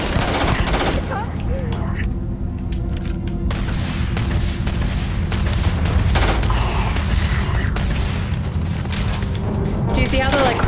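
Sustained gunfire from a weapon in the space game Starfield, a loud, dense stream of shots and booms that continues almost without a break, with a player talking over the firefight.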